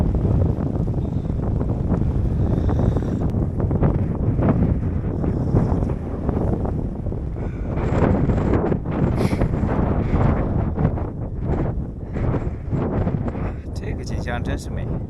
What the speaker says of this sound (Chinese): 苍茫的原野，大风吹雪，很壮观。